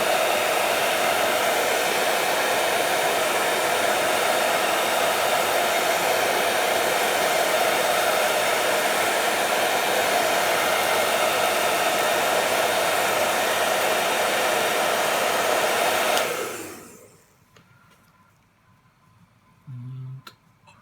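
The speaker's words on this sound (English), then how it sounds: "Blast of the dryer." A hair dryer blasts air onto a chess piece painted with a marble effect. A loud, steady roar runs continuously for about sixteen seconds, then cuts off and winds down into near silence.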